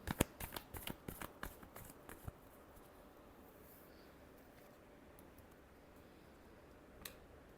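A deck of tarot cards is shuffled close by in a quick series of crisp riffling snaps for about two seconds, followed by near silence and one last soft tap.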